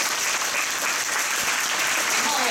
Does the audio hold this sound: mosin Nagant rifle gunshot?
no